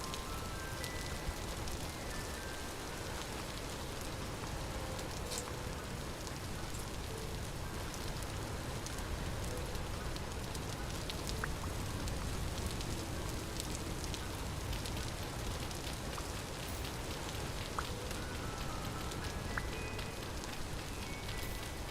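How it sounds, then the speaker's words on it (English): Steady, loud rain falling in the video game Vintage Story, a dense continuous hiss of drops on surfaces lasting throughout without pause. "The rain is very loud."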